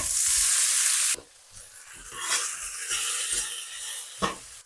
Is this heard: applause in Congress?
no